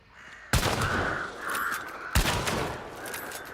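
Two loud, sharp gunshots ring out about a second and a half apart in a shooter video game, each leaving a lingering reverberant tail.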